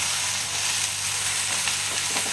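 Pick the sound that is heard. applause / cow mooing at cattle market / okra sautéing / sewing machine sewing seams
okra sautéing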